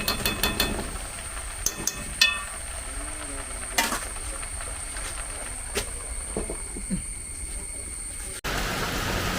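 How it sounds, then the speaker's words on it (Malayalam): Steady rain patters down, broken by scattered louder drips and knocks on a hard surface, with the downpour swelling heavier near the end. "മഴയാണ്"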